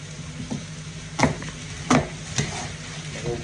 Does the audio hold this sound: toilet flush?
no